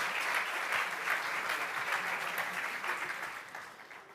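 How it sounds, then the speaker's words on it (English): Brief, steady audience applause fills a hall at the Destination Europe Summit, dense clapping that stays even and then eases slightly toward the end. "ladies and gentlemen, a round of applause"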